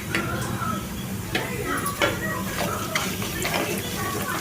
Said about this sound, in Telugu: ఇప్పుడు దీంట్లో 1 స్పూను తాలింపు గింజలు వేసుకోవాలి